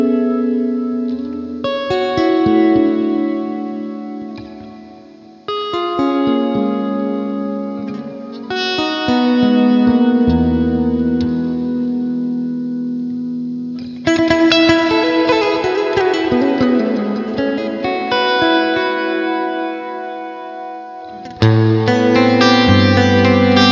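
An electric guitar plays through the Neural DSP Archetype Plini preset: loud, effected phrases with heavy reverb, echo and chorus, sustained chords and melodic runs in distinct sections, with no talking over them.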